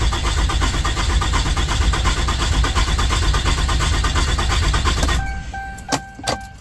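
A 6.7 Cummins diesel in a 2012 Ram 3500 cranks on its starter with a fast, rhythmic churning for about five seconds, then cuts off, leaving a quiet whine and a few faint clicks; loud and close, no talk.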